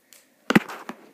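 A couple of quick sharp clicks sound close by, followed by a softer click, like an iPad case snapping shut, in an otherwise quiet room.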